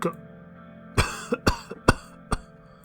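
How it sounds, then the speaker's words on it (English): A series of sharp coughs in a video game, about five, rings out close up with brief pauses between them. "If you're coughing."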